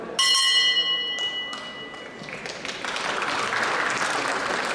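A ceremonial trade fair bell is struck at the opening of a design fair, ringing clearly at first, and then applause from the audience swells and fills the rest.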